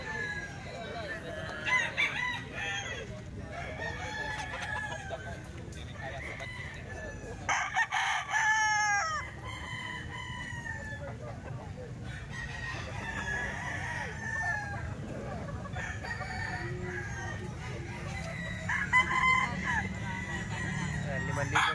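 Eight-month-old roosters and chickens in a grotto crow and cluck at moderate distance, one clear crow standing out midway, while people talk quietly throughout.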